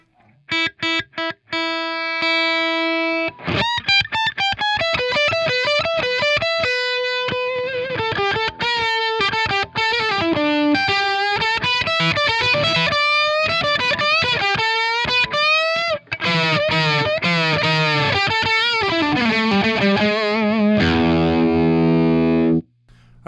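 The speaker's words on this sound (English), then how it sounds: "let's try out some of the overdrive tones on the Screaming Flamingo" An electric guitar plays through an AJ Peat Screaming Flamingo overdrive pedal, crunchy sustained notes, chords and bends, loud and close, with no talking.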